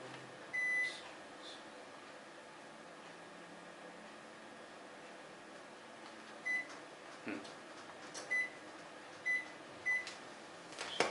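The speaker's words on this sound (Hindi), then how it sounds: "ये आवाज के चलते एसी बंद कर दिया था, अब लगा देता हूं" An air conditioner is switched on indoors, giving a series of short, separate electronic beeps over a steady low hum and room hiss.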